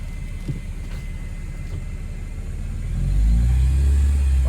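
A 1999 Alfa Romeo 156 pulls away, its engine rumble rising into a louder, deeper drone over the last second and a half after a steady idle; no one speaks.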